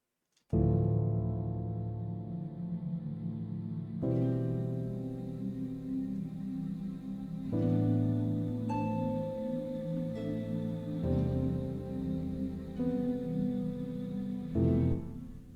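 A quiet, mellow passage from a composed video game save theme, soft sustained chords changing every few seconds in a slow, gentle progression, played alone without any voices.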